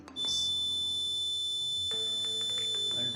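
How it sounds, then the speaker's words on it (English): An electric buzzer on a small 3-volt portable laser security alarm circuit sounds a continuous shrill electronic tone, close and steady, starting just after the beginning and holding to the end. "this electric buzzer getting on"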